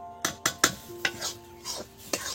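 Sugar mixture stirred in a pan for soan papdi, a series of sharp scraping and clinking strokes at an uneven pace, close and moderately loud, without talk.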